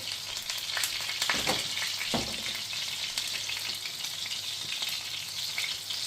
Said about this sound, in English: I just want them to have some color. So I fry them like this.